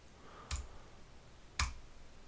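Two crisp, quiet clicks about a second apart from the buttons of a Gigabyte M6980X mouse, close up against a low background hiss.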